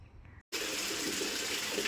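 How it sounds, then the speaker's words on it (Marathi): After a short gap, water from a borewell begins gushing steadily and loudly, like a pipe pouring into a container. "पाणी आले बोरला. पाणी भरत आहे मुलगा."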